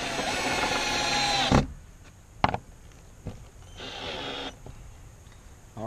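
A power drill driving screws through a bracket into a fence post during a chain link privacy fence job: a loud whirring run that stops abruptly, then brief clicks and short bursts of motor noise.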